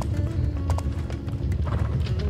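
Horse hooves clip-clop at a steady walking rhythm in the medieval MMO game Life is Feudal while riding through a village, close and continuous over a low ambient rumble.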